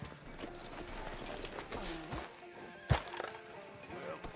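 In Red Dead Redemption 2, a horse whinnies and hooves clop at a walk, with a sharp knock near the end against a low ambient backdrop.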